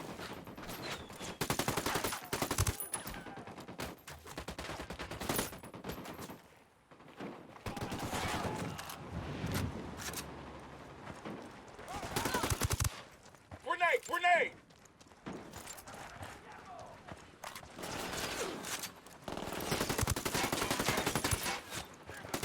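Gunfire from Ghost Recon Wildlands crackles in repeated bursts and single shots, sometimes close and loud, mixed under people talking and other game sounds.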